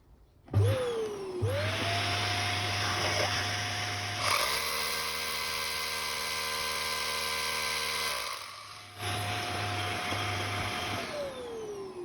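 A high-pitched drill whines steadily alongside the roar of a vacuum fitted with a dust-extractor attachment, with a harsher grinding stretch in the middle as the bit bites into concrete.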